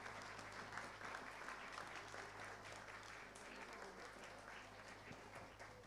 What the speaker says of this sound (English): Could we please give a huge round of applause for all the teachers?